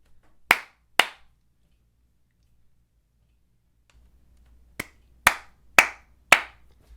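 Sharp, isolated hand claps for audio sync: two claps about half a second apart, a pause of several seconds, then four more evenly spaced claps, each crisp and close in a quiet room.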